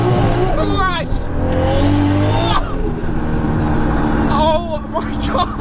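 A 1000-horsepower Toyota Supra accelerating hard, a loud close engine roar rising and shifting with a tire-squealing edge, sustained throughout with brief voice sounds over it.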